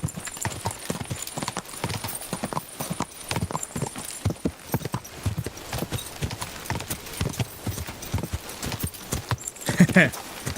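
Horse hooves clip-clopping steadily while being ridden in a video game, a continuous close rhythmic patter of hoofbeats with a brief louder burst near the end.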